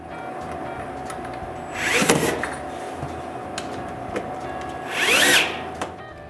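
A power drill drives screws to fix the strike plate on an interior door, two separate short whirring bursts a few seconds apart over a steady low room hum, close by.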